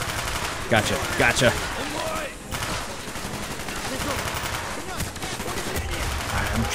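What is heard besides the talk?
gunfire in the video game Call of Duty Black Ops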